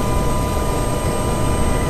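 A helicopter in the Flight Simulator X game gives a loud, steady rotor and engine drone, with a constant whine held on top and no breaks.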